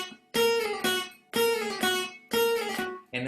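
Guitar plays a short melody phrase from a jazz standard, three similar bright picked figures with sustained notes and brief gaps between, fairly quiet and unaccompanied.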